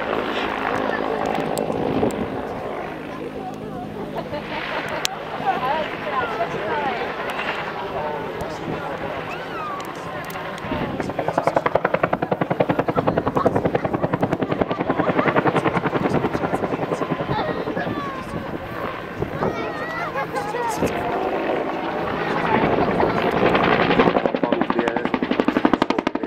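A Bell TAH-1P Cobra attack helicopter flies at the CIAF air show, its rotor beat and turbine whine loud and continuous, surging louder midway as it passes, with a commentator talking throughout.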